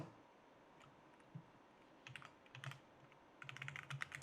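Quick bursts of keystrokes on a computer keyboard while code is typed, soft and fairly close, coming in short clusters with pauses between them and no talking.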